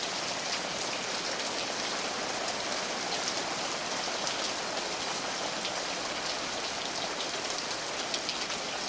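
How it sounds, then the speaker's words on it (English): Steady heavy rain pours down continuously on a flower bed, a dense even hiss of drops with no voices. "And really raining, as you can see from my flower bed"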